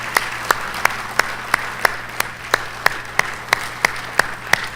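Crowd at a church conference claps in a steady, even beat, sharp claps repeating about three times a second over a low hum, with no talking.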